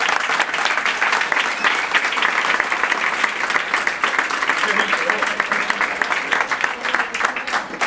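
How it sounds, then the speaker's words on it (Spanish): An audience at a talk in a Madrid venue breaks into sustained, dense applause, many hands clapping steadily and loudly throughout with no pause. "Un aplauso."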